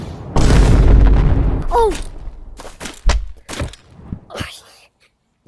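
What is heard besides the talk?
gunfire from a revolver in the video game Animal Company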